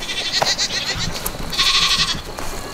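Young small brown goat bleating on a farm, several short nasal cries repeating close by and fairly loud, with no talking.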